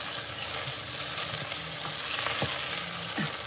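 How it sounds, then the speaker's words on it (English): Steady, dense sizzling of onions frying in a pan, loud and continuous, with a few faint clinks of stirring. "You see how the sizzling's going down now?"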